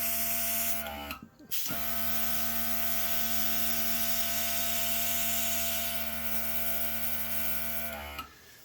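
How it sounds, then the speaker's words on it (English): An airbrush sprays paint with a steady, close hiss and motor buzz, briefly cut off once near the start, then a second stop at the end. "Down for air, back, and just start moving the airbrush."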